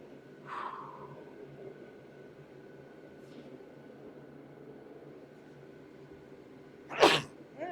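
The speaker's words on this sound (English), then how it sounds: "Sneezing." A single sharp sneeze near the end, loud and close, after a quieter breathy sound over a steady low hum.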